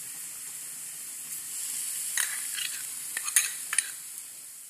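Coarsely ground onion sautéing in a hot pan with red bell pepper, a steady bright sizzle with a few sharp stirring scrapes and clinks near the end, no talking.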